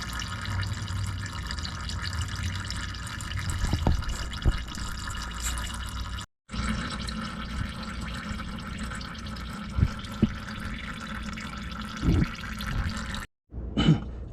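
Power steering fluid drains from the lines of a Chevrolet C-10, a steady close trickling hiss that runs continuously with only two brief cuts.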